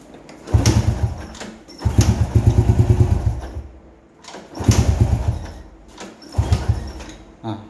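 Honda C70 motorcycle cranked on its starter in repeated attempts, the engine catching weakly each time in low rumbling bursts, a weak CDI suspected, with pauses between tries.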